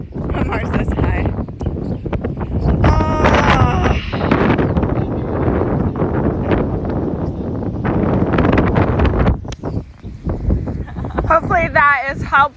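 Strong wind buffets the microphone outdoors in Hawaii in heavy, continuous rumbling gusts while a person talks over it.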